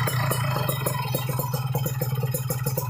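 A Kawasaki Ninja RR two-stroke engine with a PWK 28 carburetor idles steadily just after tuning, its low chugging pulse overlaid with a rapid clattery rhythm, close and continuous with no talk.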